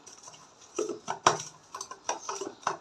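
Fish is mixed with spices by hand in a bowl, giving close, irregular wet squelches and light clinks against the bowl, repeated in uneven bursts.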